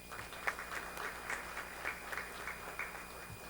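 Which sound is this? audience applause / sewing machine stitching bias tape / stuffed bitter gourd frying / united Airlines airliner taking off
audience applause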